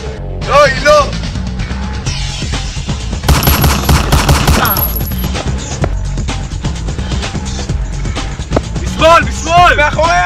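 Bursts of rapid gunfire and single shots crackle amid a loud chaotic scene, with people shouting over the shooting and a vehicle-like rumble beneath.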